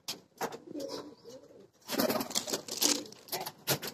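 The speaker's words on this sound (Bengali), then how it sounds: "আমি এই 2-3 দিন কবুতর টোটালি ছাড়ি নাই, আর আজকে ছাড়ছি।" Domestic pigeons coo softly in low, rounded bursts, several calls spread across a few seconds outdoors on a hot day before rain, with broader rustling or wing noise joining midway.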